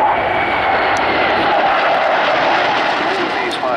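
A DC-3 making a final pass at the Sanicole air show in Belgium, a steady loud engine roar that stays constant across the moment, with an announcer talking over it.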